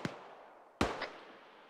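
Two sharp gunshots from a shooter video game during military squad training, about a second apart, each a loud crack that quickly fades into a short tail.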